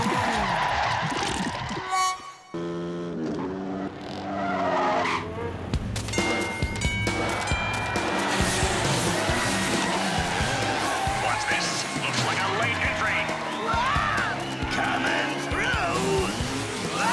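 Cartoon race cars rev and skid with squealing tires at the start of a race, loud and busy, mixed with cartoon sound effects and bursts of character voices talking.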